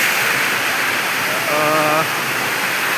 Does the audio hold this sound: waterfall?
yes